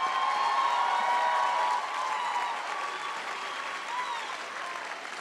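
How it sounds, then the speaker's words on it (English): A graduate studies convocation audience applauds steadily, a dense wash of clapping that eases slightly after the first couple of seconds and continues without cheering. "One more big round of applause."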